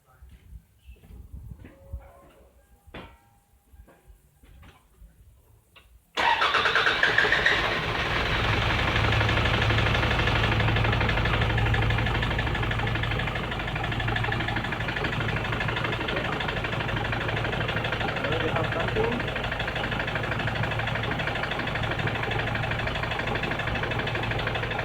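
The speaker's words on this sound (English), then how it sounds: "I'll crank the engine up and begin testing the injectors on the oscilloscope" A Toyota LandCruiser Prado engine with a lumpy idle cranks and starts, then keeps idling loudly and steadily nearby, with a low droning hum under faint background noise.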